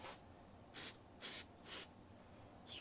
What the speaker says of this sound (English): spray it with activator,